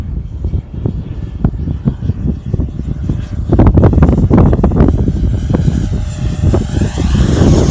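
Strong gusts of wind buffet the microphone on a very windy day at a model flying field, loud rough bursts over the faint whine of a ducted-fan model jet, with no talking.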